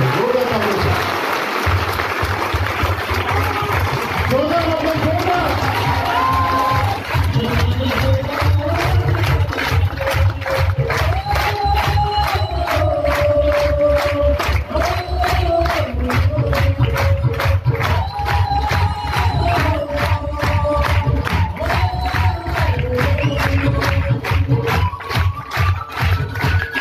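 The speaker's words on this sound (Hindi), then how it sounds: "इन सब का वेलकम हम लोग जोरदार तालियों से करेंगे। जोरदार तालियों से।" Audience applauding loudly to welcome new guests at a passive-income seminar, a dense, steady wash of clapping throughout with a sustained musical tone running underneath.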